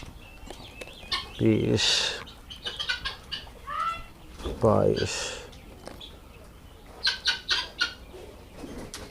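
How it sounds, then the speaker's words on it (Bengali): Japanese quail kept on a farm for eggs, with a few short bursts of wing flapping and bird calls close by, while a man counts aloud between them. "এগুলো হচ্ছে অরিজিনাল মেড ইন জাপানি কোয়েল পাখি, ডিমের সেরা।"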